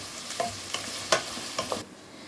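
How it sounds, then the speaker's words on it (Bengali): Onions frying in white oil in a kadai for beresta, a continuous sizzle punctuated by several sharp stirring scrapes and clinks before the sound cuts off. "বেরেস্তার জন্য পেঁয়াজ ভাজা চলছে।"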